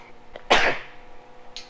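A single sharp sneeze from a person nearby in a garage, a sudden loud burst after a soft inhale, followed by quiet.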